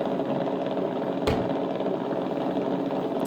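An RC car sound module simulates an engine running, a steady buzzing mechanical drone with one sharp click partway through, loud and continuous with no talking.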